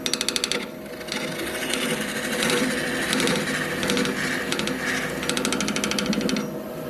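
A bowl gouge cuts into end grain of wood spinning on a lathe, hollowing from the centre: rapid rattling chatter at the start, then a continuous close scraping and shaving noise with intermittent buzzy bursts.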